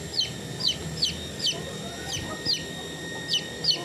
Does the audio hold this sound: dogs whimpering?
no